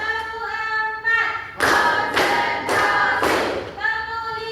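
Four sharp hand claps sound in an even rhythm, close and loud, with singing voices before and after.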